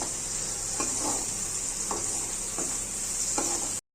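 Okra frying in a home pan, a steady sizzle with several short scraping stirs from a spoon at irregular intervals, heard close and alone without any talk.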